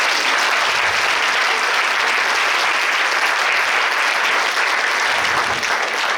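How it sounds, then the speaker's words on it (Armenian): A hall audience at a fourth-grade graduation ceremony claps steadily and densely for about six seconds, a loud, even wash of applause with no voices. "ծափահարենք"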